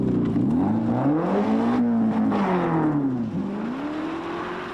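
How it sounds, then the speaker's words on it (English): A modified engine in a Sabre Mark II, competing in the 1997 Targa Tasmania road rally, over-revs with a rising and falling whine that swoops up and back down, loud and close with no voices. "this is how a modified engine in a Sabre Mark II deals with over-revving"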